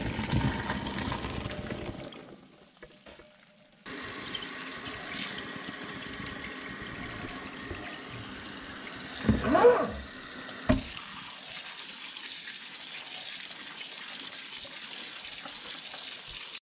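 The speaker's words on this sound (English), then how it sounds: "now you wanna put them in a strainer and rinse them with cold water" Cold tap water runs over freshly boiled edamame in a kitchen strainer, a steady splashing stream near the sink, briefly stopping and then starting again with a couple of louder splashes.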